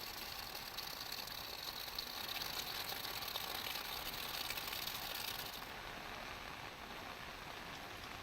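Rainwater streams along a road without drains in Guhagar, Ratnagiri, a continuous even wash of water with a faint engine rumble mixed in, steady from start to finish and slightly softer near the end.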